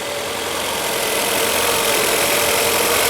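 A Peugeot 408 engine runs rough with a registered fault after the oil cap was removed, a steady loud idle with an uneven knocking, vibrating quality, heard alone without talk.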